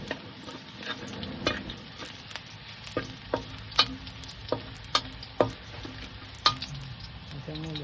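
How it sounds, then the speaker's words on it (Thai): Garlic stir-fried in a pan until golden, with a steady frying sizzle under a run of sharp scrapes and clacks from a spatula against the pan, roughly one every half second to a second, close and clear. "ผัดกระเทียม ให้เหลืองหอม"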